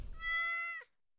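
A stray cat in the Stardew Valley video game lets out a single clear, drawn-out meow, close and distinct, followed by silence.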